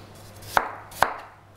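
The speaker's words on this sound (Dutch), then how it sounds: "Dan gaan we ook brunoise snijden, dus blokjes van een halve centimeter bij een halve centimeter." A knife chops peeled apple into small brunoise cubes on a cutting board, two sharp, close knocks spaced about half a second apart against a quiet kitchen background, no voices.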